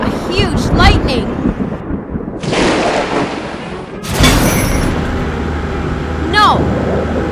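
A huge lightning strike's thunder during a storm: several loud cracking booms, one sudden sharp crash followed by a long rumbling tail, with swooping higher sounds and voices breaking in.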